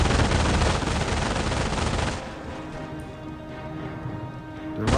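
Sustained machine gun fire from the Company of Heroes mobile game, a dense rattling burst that runs loud for about two seconds, then drops to a softer, scattered battle din with distant shots continuing underneath.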